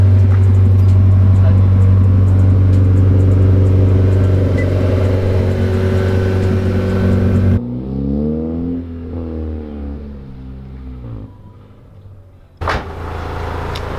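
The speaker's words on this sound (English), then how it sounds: "So we're gonna be pulling out the Miata." A Mazda Miata's engine idles loudly and steadily up close, with a deep droning rumble. The car then pulls away, its revs rising and falling as it moves off and fades, and people talk nearby.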